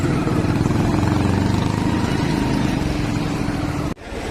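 Tractors and other vehicles roll past in a welcome procession in a village, making a loud, continuous engine rumble that holds steady and then cuts off abruptly near the end.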